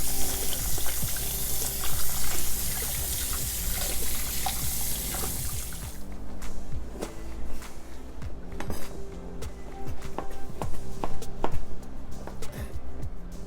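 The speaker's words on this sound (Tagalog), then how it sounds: "I am going to drain the water and wash it and cool it down" Water runs from a tap as cooked noodles for lomi are drained and rinsed in a sink, a steady rushing stream that eases after a few seconds, with light clinks of a pot or utensils.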